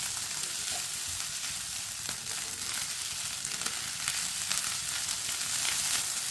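Leftover rice cooking in a pan over a medium flame gives a steady, close sizzle that holds evenly throughout, with no voices.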